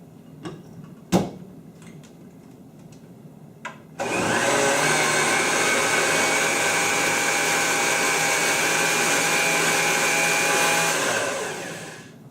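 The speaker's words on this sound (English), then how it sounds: "we're just going to blend that till we get all of those things blended together" A blender purees strawberries, ice, lime juice and sugar: a few light taps and clunks, then the motor kicks in loud and steady with a high whirring roar for about seven seconds before winding down.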